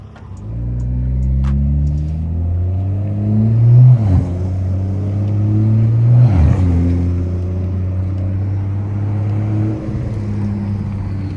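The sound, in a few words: car on coilovers driving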